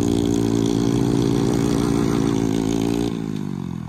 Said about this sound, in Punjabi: ਦੋਨੇ ਮੋਟਰਸਾਈਕਲ ਆਪਣੇ ਹੀ ਆ ਦੋਨਾਂ ਦੇ ਤੇ ਰਿਸਪੋਂਸ ਤੁਹਾਡੇ ਸਾਹਮਣੇ ਆ